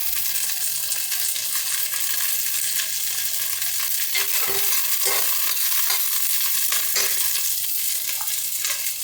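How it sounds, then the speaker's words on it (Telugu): Mustard seeds and curry leaves sizzle in hot oil at the start of a brinjal curry, a steady, loud frying hiss with scattered pops and crackles and an occasional stir, no voices. "కొంచెం ఆయిల్ వేడెక్కిన తర్వాత ఫస్ట్ ఆవాలు వేసుకుంటాం"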